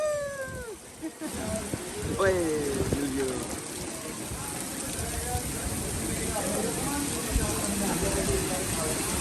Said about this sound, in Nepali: अझै ठुलो पानी परेको।